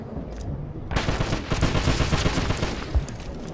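Loud, rapid automatic gunfire in a Wolfenstein shootout, close and continuous after a short quiet opening, with sharp individual shots standing out.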